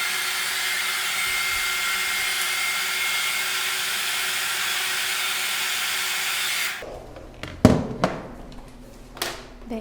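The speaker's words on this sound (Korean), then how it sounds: "저는 이제 드라이기로 좀 말린 다음 시작하겠습니다." A handheld hair dryer blows steadily and loudly on hair during a haircut for about seven seconds, then switches off, leaving scattered handling clicks and small knocks nearby.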